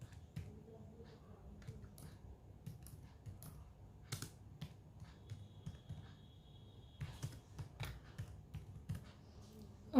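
Computer keyboard keys tapped in quick, uneven bursts of soft clicks, fairly quiet and close, with a faint background hum.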